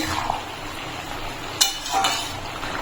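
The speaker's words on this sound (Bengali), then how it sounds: "দিয়ে একটু নাড়িয়ে নেব" Ash gourd shukto curry with fried lentil dumplings and bitter gourd being stirred in a pan, soft scraping and a few sharp metallic clinks of the spoon over a faint simmer.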